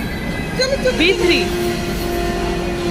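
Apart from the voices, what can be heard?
train arriving at the station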